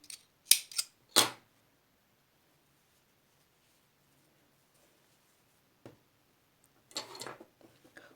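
Scissors snip yarn after finishing an amigurumi crochet T-shirt sleeve, a few quick close cuts near the start, then a brief rustle and another short burst of snipping later, otherwise quiet.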